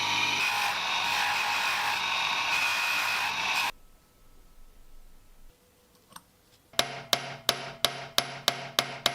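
A ball peen hammer peens and mushrooms the new pins of a restored rusted Filipino balisong during assembly. About eight sharp, close taps land in a steady rhythm, following a stretch of dense continuous noise and a quiet pause.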